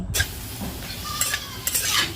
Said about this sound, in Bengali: আর এখন পাপড়টা ভেজে নিচ্ছি